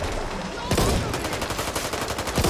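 Rapid gunfire from Back 4 Blood, a loud burst of close shots followed by a quick run of repeated rounds, with game battle noise throughout.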